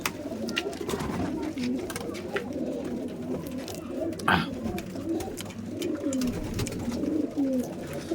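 A flock of racing pigeons kept in a loft coos in a dense, continuous chorus. Faint voices sit underneath, along with a brief rustle partway through.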